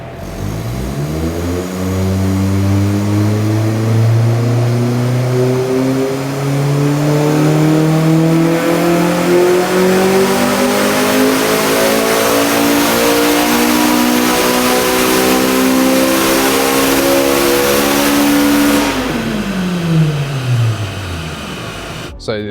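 A Honda Civic Type R EP3 with drop-in cams and a base map revs on a dyno, its engine pitch climbing steadily through a long loud pull before dropping off sharply near the end.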